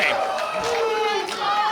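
A wrestling crowd at a Limitless Wrestling show in Yarmouth roars and cheers in a steady, dense wash of voices, with an announcer talking over it.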